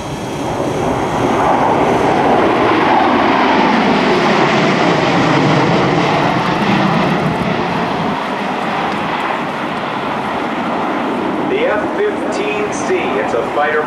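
Fighter jets of the 71st Fighter Squadron passing over an air show at Hampton Roads in 2008 make a loud, sustained roar that swells and sweeps by, with crowd and voices mixed in.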